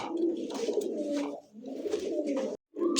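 Pigeons cooing steadily in soft, low, rolling calls, close by, with a brief pause before the cooing resumes.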